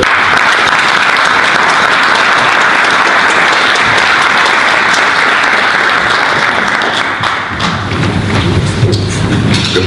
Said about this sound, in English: give a hearty Jamaican round of applause for our guest presenter